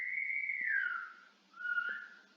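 A night guard's whistle blown outdoors: a faint, distant high whistle that slides downward, pauses, then returns as a shorter second whistle.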